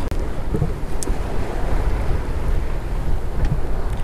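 A sailboat sails on a port tack with about 7 knots of wind over the bow, wind buffeting loudly and steadily against the microphone over the rushing wash of waves.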